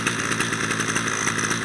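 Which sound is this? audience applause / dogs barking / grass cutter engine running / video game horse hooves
grass cutter engine running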